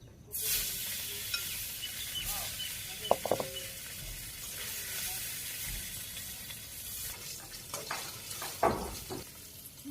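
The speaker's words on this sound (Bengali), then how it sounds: "এই বাকি মাছগুলো ভাজি করে উঠিয়ে নিই।" Fish fry in hot oil in a home kitchen, a soft steady sizzle with occasional scrapes and clinks of a spatula stirring, fairly quiet and close.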